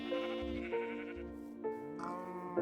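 Blocky game sheep in a Minecraft Skyblock island bleat repeatedly, several wavering baa calls in quick succession over a steady background tone, close and clear.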